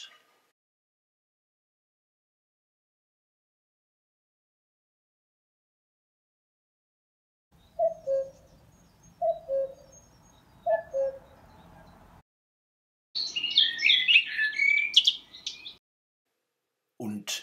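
A white dove in a studio gives three short, low cooing calls in a row after a long silence, followed by a burst of brighter chirping, all fairly close and clear.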